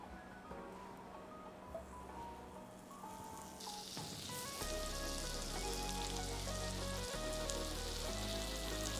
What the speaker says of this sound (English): we're gonna put some butter on and let that melt and then put our patty on